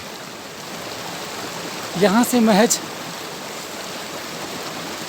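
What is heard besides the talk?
babbling mountain stream water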